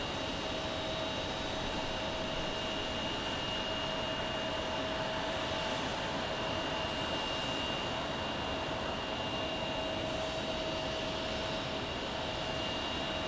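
An American Airlines Boeing 737 MAX 8 rumbles at Phoenix Sky Harbor International Airport with a steady, broad jet-engine roar and a sustained high whine, constant and fairly loud for the whole stretch with no talk.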